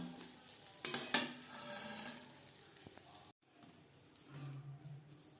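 A small potato dropped into hot mustard oil in a pan, a few clattering knocks followed by an even sizzling fry that briefly cuts out and resumes softly.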